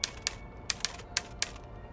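Typewriter keys struck in the video game We Happy Few, six crisp clacks spaced at an uneven, unhurried pace over a faint steady background, with no voices.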